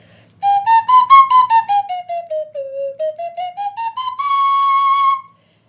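A flutophone, a reedy, whistle-like wind instrument, plays a slow melody of short tongued notes that dip down and rise again, ending on a long held tone, loud and close.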